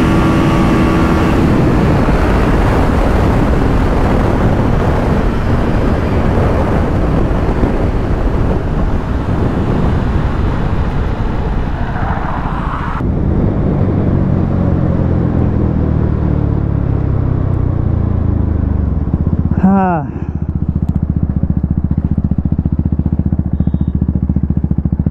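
Two KTM Duke 250 motorcycles in a drag race, engines roaring loud and steady with wind buffeting, then a pitch-falling pass and a sharp rising whine near the end.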